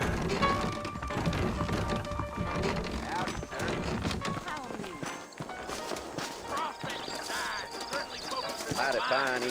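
Saddled horses in the Red Dead Redemption video game clip-clop with uneven hoof beats and an occasional whinny, mixed under background music and in-game voices talking.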